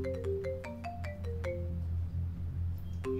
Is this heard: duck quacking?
no